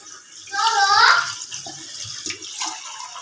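Water poured into a pot of curry in a home kitchen, a steady splashing stream that is loudest early on and then settles into a softer trickle, with a voice briefly heard over it.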